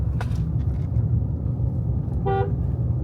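A car horn gives a short honk over the steady rumble of a moving car on a curving road to Simhachalam Temple, Visakhapatnam, with a fainter toot near the start.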